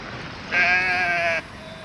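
A single loud sheep or goat bleat rings out close by, wavering for about a second over quiet outdoor background, with the flock travelling on foot in a village procession.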